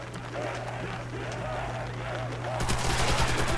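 Rapid machine gun fire in Call of Duty zombies mode breaks out near the end as a loud sustained burst, following quieter game noise with a steady low hum and a voice talking.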